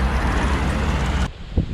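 Strong wind buffets the microphone outdoors in the southern North Macedonian countryside, a loud broadband roar that cuts off abruptly partway through, leaving faint quiet rustling.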